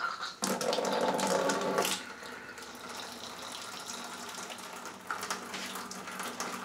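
Sparge water pours over a bourbon mash in a fermenter: a loud gushing stream at first, then a softer steady trickle, before another louder splash of flow near the end.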